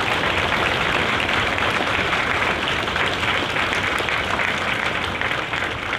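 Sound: audience applause for recruiters and combat instructors

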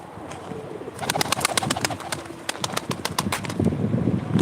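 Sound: pigeons cooing at live pigeon auction

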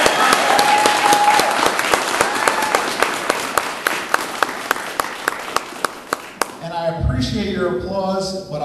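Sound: applause at campaign kickoff

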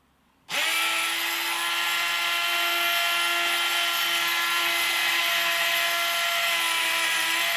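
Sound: Proxxon rotary tool cutting abalone shell

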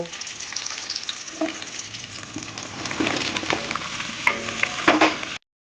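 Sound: vegetables for greens lightly frying in oil

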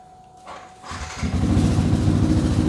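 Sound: Yamaha R15 V3 motorcycle engine starting

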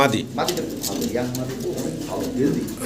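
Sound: pigeons cooing, blue checker racing pigeons

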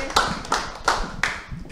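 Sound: clapping hands

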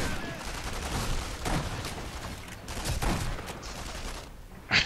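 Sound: sniper rifle shots in video game Sniper Elite V2

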